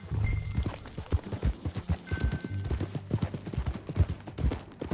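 Horse hooves clip-clop at a steady walking rhythm in the open-world western game Red Dead Redemption 2, the close, evenly spaced thuds of a ridden horse continuing throughout with a few faint tonal game sounds over them.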